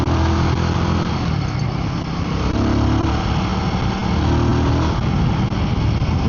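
Royal Enfield-style Guerilla 450 cc motorcycle riding at speed, a steady loud engine drone with wind rush throughout, no voices.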